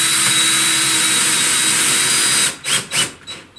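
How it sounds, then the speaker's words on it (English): A power driver fitted with a nut driver drives a screw while a ChargePoint Home Flex EV charger is mounted, giving a loud steady whine for about two and a half seconds, then a few short bursts. "Got the supplied nut driver and a screw. We're gonna put in the top one."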